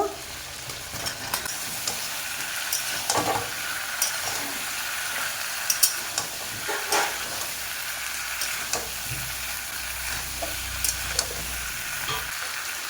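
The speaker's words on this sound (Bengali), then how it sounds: "এবার কেটে রাখা সবজি দিয়ে কিছুক্ষণ কষে নেব" Chopped vegetables being fried in cooked spice paste for a banana, taro, eggplant and shrimp curry: a continuous close sizzle with scattered clinks and scrapes of a spatula against the pan.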